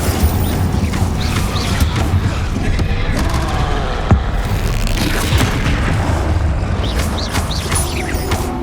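Spell-casting blasts in the Hogwarts Legacy video game, dense booming impacts and crackling magical bursts layered over a continuous loud rumble, with a sharp hit near the middle.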